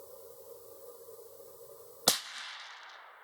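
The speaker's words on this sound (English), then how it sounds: "Firing one more round." A Ruger American rifle chambered in 300 Blackout fires a single sharp, loud shot at an outdoor range, the crack followed by a brief decaying echo after a stretch of low steady background.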